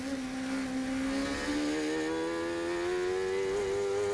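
A 750MC Sports 1000 race car engine holds a high, buzzing note on part throttle at Anglesey circuit, pitch rising slowly as it accelerates, loud and close from the onboard position, without talk.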